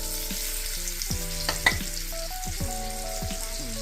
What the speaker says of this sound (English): you want to make sure you're browning all of the meat sides.